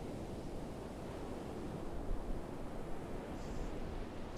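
Ocean waves in a NEOS VR virtual world wash in a soft, steady rush of surf, faint and even, with slight swells of breaking water and no voices.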